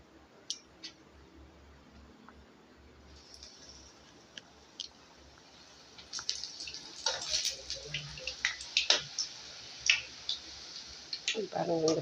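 Poori dough dropped into hot oil starts to fry with a quiet ticking at first, then a louder, denser run of crackles, pops and sizzling spatters close by.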